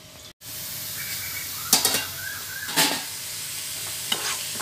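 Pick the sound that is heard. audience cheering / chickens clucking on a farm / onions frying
onions frying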